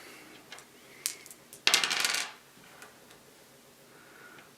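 Heavy, sharp-edged Yaquinto six-sided board game dice clatter on a hard surface in one short, close burst, with a few faint light ticks before and after in a quiet room.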